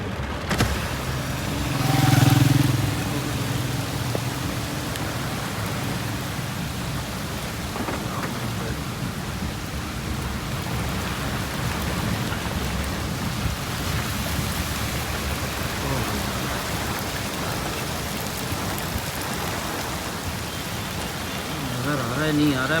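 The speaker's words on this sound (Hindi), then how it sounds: "बहुत तेज बारिश हो रही है" Very heavy rain pours down without letup in a steady loud roar, with thunder rumbling early on and a passing car, close and dense, no voices.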